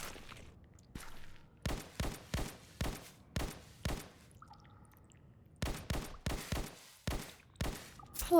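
Gunfire in the video game Colony 37: quick rhythmic bursts of shots, several in a row, then a brief pause before another rapid run of close, sharp reports.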